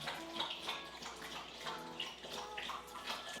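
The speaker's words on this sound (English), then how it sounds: "My dog always decides to drink water when we are filming." A dog laps water from its bowl in a kitchen, a steady run of quick wet splashy laps that keeps going through the whole stretch, fairly quiet and close, with no voices.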